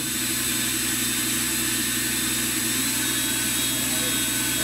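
Car engine revving steadily higher through its rev range, a loud, continuous, close-up engine drone that holds strong for several seconds without a break.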